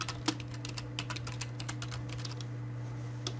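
Rapid typing on a computer keyboard, with a quick irregular run of crisp key clicks close by over a low steady electrical hum, trailing off near the end.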